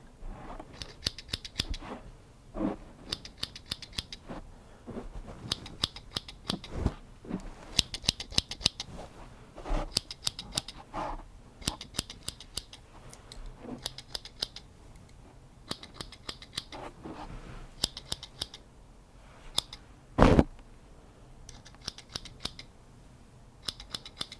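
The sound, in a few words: scissors snipping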